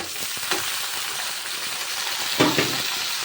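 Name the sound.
sliced onions sautéing in a pan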